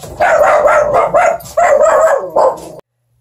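Dogs indoors bark loudly and close by in several quick bursts, with yips between, and then fall abruptly silent.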